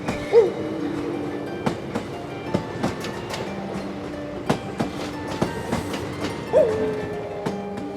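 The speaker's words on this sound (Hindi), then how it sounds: "और ट्रेन वहां से निकलती है।" A train moves along the tracks with a rhythmic clickety-clack of wheels over rail joints, with occasional louder clanks and brief squeals from the carriages, heard close by.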